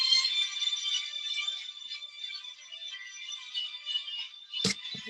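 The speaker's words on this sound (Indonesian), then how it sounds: "ada telepon masuk" An incoming call plays as a faint, steady, high electronic phone ringtone for about five seconds, ending with a sharp click or tap near the close.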